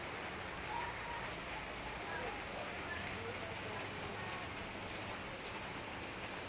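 Steady evening rainfall hissing softly in the background, an even, continuous patter with no break.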